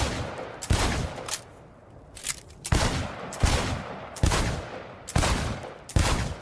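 Gunfire in a timed shooting contest in the video game Cyberpunk 2077: loud, close bursts of rapid shots in several volleys with short pauses between them, and no talking.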